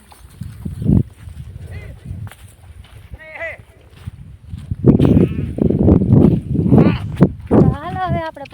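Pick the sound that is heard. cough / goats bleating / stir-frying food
goats bleating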